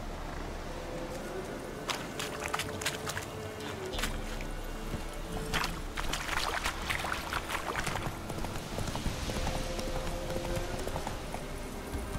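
Roach the horse gallops in The Witcher 3, hooves clip-clopping in a steady, rapid rhythm that runs throughout over an outdoor ambience, with occasional brighter clatters.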